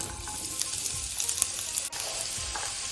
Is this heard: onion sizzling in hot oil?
yes